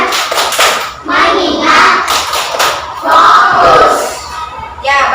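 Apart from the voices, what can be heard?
class rhythmic clapping, 'tepuk fokus' routine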